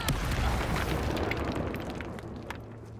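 Incendio fire spell from the Hogwarts Legacy wizarding game, a loud close burst of flame and boom that rolls off into a fading crackling rumble over about three seconds.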